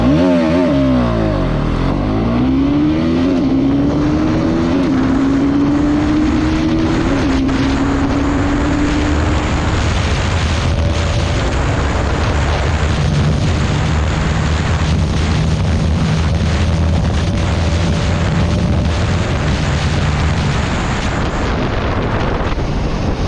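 A Bajaj Pulsar NS200 BS6 motorcycle accelerating hard, its engine note rising through gears with climbing pitch, then settling into a sustained high-speed drone heavily buffeted by wind noise on the microphone.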